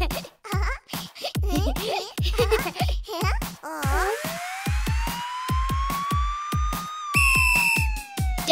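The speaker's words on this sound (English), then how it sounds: "Police car." A police car siren in a children's nursery-rhyme cartoon wails in long rising and falling sweeps over a bouncy music track. A short high warble follows near the end, and the siren stays loud and up front.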